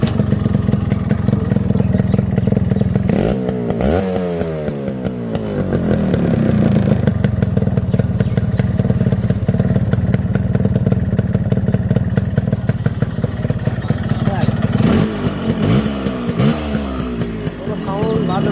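A Yamaha RX100 two-stroke motorcycle engine runs loudly and close throughout, its rough rasp rising in a few revs and falling back to a chattering idle.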